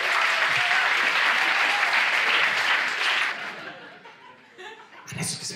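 An audience at an Italian stand-up comedy show breaks into loud sustained applause mixed with laughter and chuckles for about three seconds, then the clapping thins out and fades to scattered claps and murmurs.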